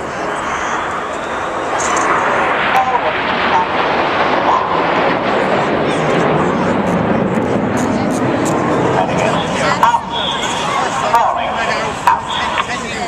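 The Red Arrows, a group of fast jets in formation at 400 miles an hour, roar past, a loud sustained rushing engine noise with a muffled voice faintly underneath.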